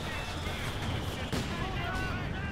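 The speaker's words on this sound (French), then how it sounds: "Hans qui prend des tirs de mortier." Mortar shells strike a unit during a 2v2 tournament strategy video game match: dense booming impacts and rumbling blasts under continuous excited commentary.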